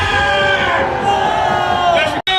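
A large outdoor political rally crowd at Gwanghwamun cheers and shouts loudly and continuously, with many raised voices blending into a dense roar that drops out briefly just before the end.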